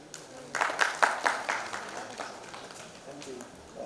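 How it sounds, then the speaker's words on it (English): A conference audience in Guwahati clapping for a speaker, a burst of applause that swells quickly, peaks and then fades over a few seconds, with a voice faintly present. "A huge round of applause for Mr."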